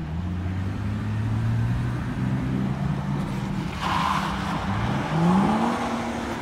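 Car spinning out while drifting at an amateur drift day, engine droning with shifting revs, then a rising burst of tire noise as the car swings around, heard fairly near.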